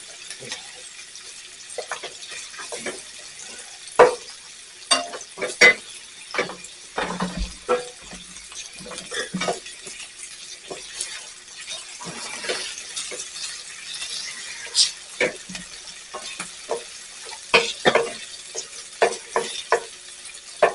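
Onions sizzle in a pan as they brown and caramelize for a Salisbury steak sauce, with a steady faint sizzle broken by scattered scraping stirs and clinks of a utensil against the pan, no talking.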